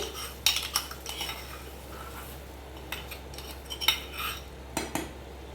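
A spoon stirs dal tempering with red chilli powder, giving a few sharp metallic clinks and scrapes against the pot at irregular intervals over a quiet background hum, with no talk.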